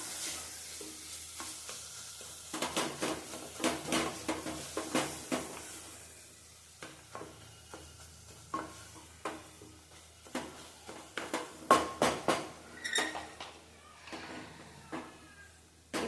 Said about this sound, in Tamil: நல்லா வதக்கி விட்டுடலாம்.